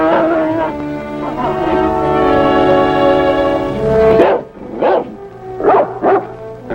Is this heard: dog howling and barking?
yes